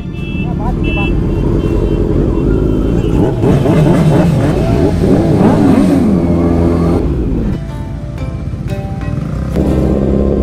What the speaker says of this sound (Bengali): এরকম ভাবে সুপার বাইকের সব শব্দ হচ্ছে